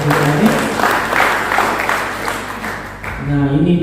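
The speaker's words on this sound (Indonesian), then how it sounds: "Beri tepuk tangan." A church congregation applauds during a sermon, with clapping and crowd noise that fades before a brief lull, then voices return.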